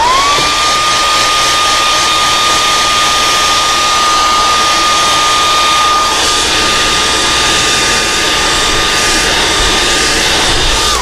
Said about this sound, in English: We're going to heat set it so that it doesn't seep